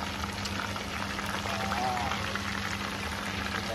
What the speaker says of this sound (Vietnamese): Đó, đang chiên nha các bạn.